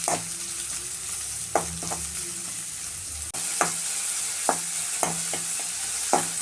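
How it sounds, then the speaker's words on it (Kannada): Two green chillies and an onion frying in hot oil for garlic Maggi noodles give a dense, steady sizzle up close. Regular spatula scrapes cut through it, and the frying grows louder partway through. "ಎರಡು ಮೆಣಸಿನ್ಕಾಯಿ ಒಂದು ಈರುಳ್ಳಿ ಹಾಕ್ತಾಯಿದ್ದೀನಿ ಇದನ್ನು ಒಂದು ನಿಮಿಷ ಫ್ರೈ ಮಾಡಬೇಕು"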